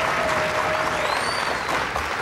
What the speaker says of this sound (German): Jetzt ein tosender Applaus.